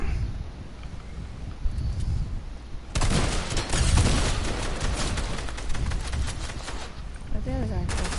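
Gunfire from the video game Fortnite rattles in a steady stream of close, dense shots, partly under a player's voice in a busy match.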